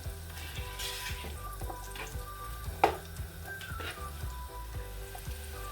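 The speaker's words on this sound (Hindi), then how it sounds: "प्याज को फ्राई कर लेंगे।" Three chopped onions frying in a pan for a pastrami biryani, giving a steady soft sizzle with occasional stirring clatter and one sharp clink, faint and close with no talking.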